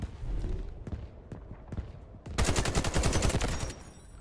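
Enemy gunfire in the video game Delta Force: a few sharp, isolated shots, then a loud, rapid automatic burst that lasts about a second before cutting off.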